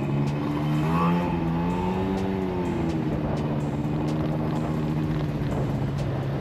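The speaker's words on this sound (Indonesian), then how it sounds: "kenapa di motor berisik banget ya. Begitu bunyi 2 tak, oh Mio bentuknya ya." Indonesian-made two-stroke automatic scooter, a Yamaha Mio, running with a steady buzzing drone and a brief rise in pitch early on, loud and close with wind noise over the microphone and no talking.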